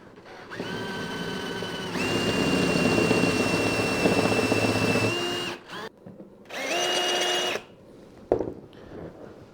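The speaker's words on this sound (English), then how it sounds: "I will just drill it out using a 8mm drill" A power drill with an 8mm bit whines in several bursts, a long steady run followed by shorter ones, close and loud, with a sharp clunk near the end.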